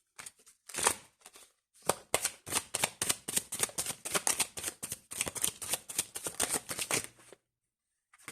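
Tarot cards shuffled by hand for a single-card draw, a close run of quick riffling, flicking bursts that come in rapid clusters, with brief pauses between them and no voices.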